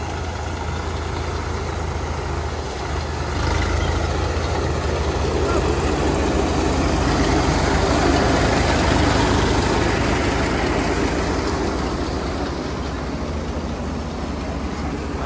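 Paddy thresher engine running in a village, a loud, continuous low droning hum that holds steady throughout with no clear speech.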